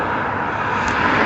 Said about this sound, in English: obviously the freeway's right here and the cars passing by